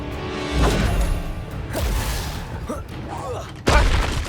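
Fire spell blasts cast in the video game Hogwarts Legacy: a heavy booming burst early on and a sharper crash near the end, with whooshing effects and game noise between, under loud voices.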